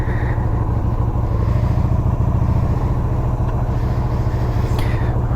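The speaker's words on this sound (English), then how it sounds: "Now, the Yamaha Vstar 250. It's a very reliable motorcycle." A Yamaha V Star 250 motorcycle engine idles and runs steadily up close, a loud low rumble with faint mechanical clatter from gear shifting and no voices.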